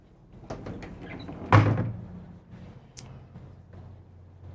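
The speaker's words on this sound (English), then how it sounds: "This door will close and give you a little bit more room." Pocket door in a 2023 Newmar Supreme Aire 4051 motorhome sliding shut with a single firm thunk, followed by a soft rattle and a quiet cabin hum.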